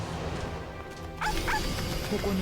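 A cartoon dog yips and barks a few times in a Fate/Grand Order skill animation, short bright barks over game music and effects.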